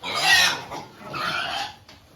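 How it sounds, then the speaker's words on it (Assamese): Two-month-old piglets, about 20 kg, squeal loudly in two shrill bursts, the first louder and the second slightly softer, with no talk over them. "এতিয়া আমি গাহৰিখিনি আনোগৈ পোৱালিখিনি"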